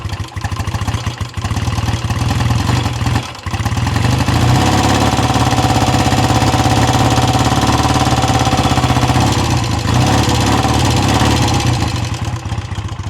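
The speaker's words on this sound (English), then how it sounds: "The engine's not rattly, which is really nice. So I'm going to let it warm up" A classic motorcycle engine idles while warming up with the choke just set, a loud, close, steady chugging drone that runs unbroken, with a brief dip early on.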